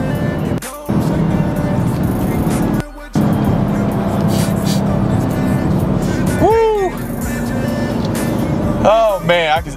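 Orange 2020 Dodge Charger Hellcat driving, its engine a steady loud rumble for the whole stretch, with brief dropouts and people talking over it inside the car.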